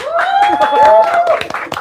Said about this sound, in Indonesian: Tepuk tangan buat Firza.